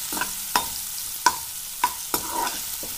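Chillies and tomato frying in a pan while a spoon stirs them, with about five sharp scraping strokes spaced roughly half a second apart over a soft, steady sizzle, close and fairly quiet.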